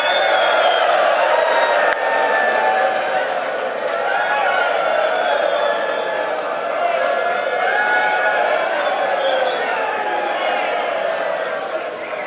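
An audience at a prizes ceremony cheering loudly, with sustained whoops, shouts and scattered clapping blending into a continuous crowd roar.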